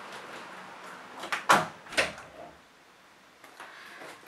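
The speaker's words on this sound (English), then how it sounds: "Shut the door, and that door, behind you please." An indoor door is shut, giving a couple of solid thuds and a latch clack in quick succession, followed by faint shuffling and handling noises in a quiet room.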